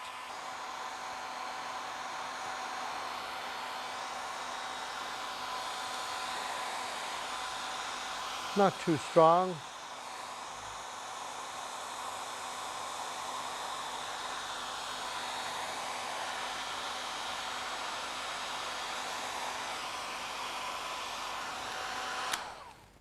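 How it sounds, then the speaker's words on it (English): A hair dryer blows steadily and fairly loud for the whole stretch, drying paper, with a brief voice partway through before it cuts off at the end. "get our hair dryer out here, and give this a good blast"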